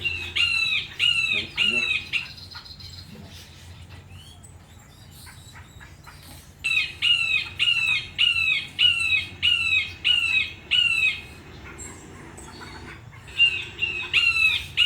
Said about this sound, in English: Which bird are you calling? Woodpecker.